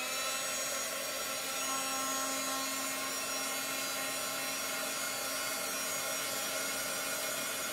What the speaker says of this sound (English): So I'm just using this heat gun right here,